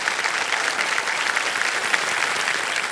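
Studio audience on the Kaun Banega Crorepati TV quiz show breaks into sustained, dense applause, a steady wash of many hands clapping that fills the room without a break and with no voices over it.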